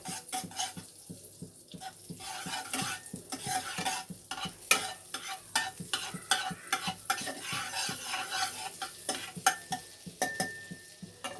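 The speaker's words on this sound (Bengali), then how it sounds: "এবার ভালো করে বাটারটাকে মেল্ট হতে দিতে হবে।" Butter melts in a pan while being stirred, a steady soft sizzle broken by rapid, irregular scrapes and clinks of the spoon against the metal, close up with no talking.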